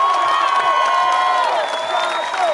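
A big concert crowd in Kinshasa cheering and applauding, a loud sustained roar of shouts and whoops with clapping underneath and voices rising over it throughout.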